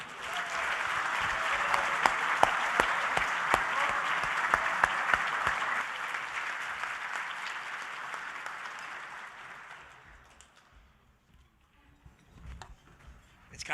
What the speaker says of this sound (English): With your applause, please welcome the 5th head coach in Carolina Panther football history.